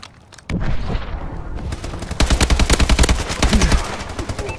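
Rapid gunfire in Call of Duty Advanced Warfare: an opening shot, then dense automatic bursts that rise into a loud, sustained rattle with heavy thumps near the end.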